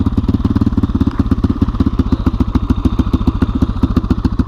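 A motorcycle thumps through deep snow during the 2017 New York blizzard. The loud, close engine gives a rapid, steady, pulsing beat of low thuds with a faint clatter throughout.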